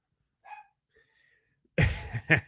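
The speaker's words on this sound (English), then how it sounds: "Don't mind my dogs." Pet dogs bark indoors: a couple of faint, distant yips are followed by several loud, close, rough barks in quick succession.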